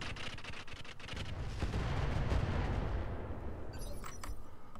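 Heavy weapons from mechs firing in the Roguetech BattleTech game, a dense rumbling barrage of booms and impacts that swells in the middle and continues loudly, with sharper crackles near the end.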